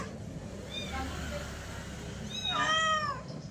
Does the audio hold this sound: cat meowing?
yes